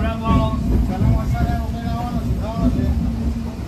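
Inside a moving train, a continuous low rumble and rattle of the carriage runs throughout, with voices and chatter of passengers talking over it.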